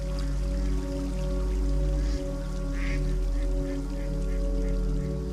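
Ducks quack intermittently by a small stream on a quiet sunny August afternoon, soft and fairly distant under a steady low hum of background noise.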